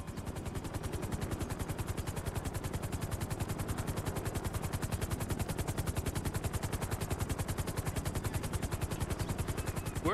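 A helicopter lands in Grand Theft Auto, its rotor blades beating in a fast, steady, even chop that stays loud and close from start to finish.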